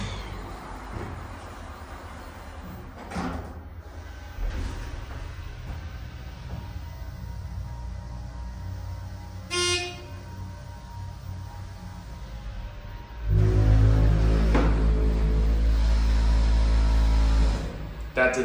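A ThyssenKrupp hydraulic elevator in a building in The Woodlands, Texas, with a deep door frame: soft clunks and a brief chime, then a loud low steady motor hum for several seconds, with a voice talking at times.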